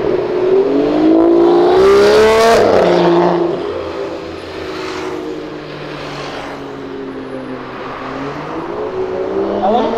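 A BMW M3 engine revs up sharply, its pitch climbing then dropping back to a rumbling idle that rises again, with steady background noise.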